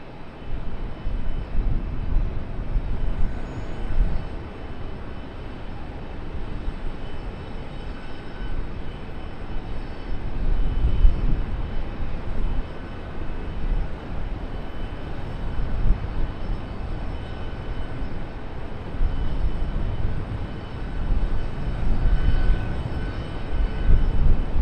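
Boeing 777 airliner turning onto the runway at Charlotte Douglas International Airport, a continuous low engine rumble that swells and eases, heard from a distance.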